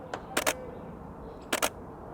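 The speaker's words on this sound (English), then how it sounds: "Let's take a shutter speed of a 20th of a second." Two SLR camera shutter releases at a 1/20 second shutter speed, each a crisp paired click-clack of mirror and shutter a fraction of a second apart, close and clear in a quiet room.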